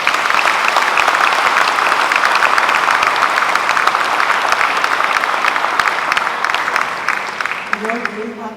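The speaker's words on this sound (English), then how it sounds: "I believe they deserve an applause." Sustained audience applause fills a lecture hall at a bank's 125th commemorative event, dense steady clapping throughout before fading near the end as a voice begins.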